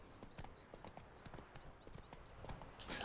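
Horse hooves clop at a steady trotting rhythm while riding in The Witcher 3 video game, quiet and even, with no talk over them.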